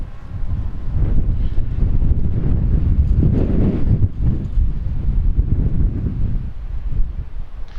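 Strong, gusty wind of around 40 mph roaring and buffeting across the microphone outdoors during a drone flight test, loud and continuous with surges and lulls over several seconds.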